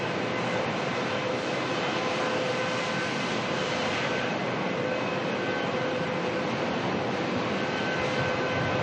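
A Velocity airliner arriving at Melbourne Airport from Sydney produces a continuous broadband roar of jet engine noise, steady and fairly loud throughout with no voices.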